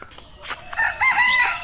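A rooster crows once, close and fairly loud, in a drawn-out call, after a few short, faint rustles and noises.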